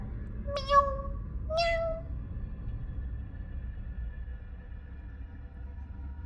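A cat gives two short, clear meows close by, one after the other, with quiet background hum before and after.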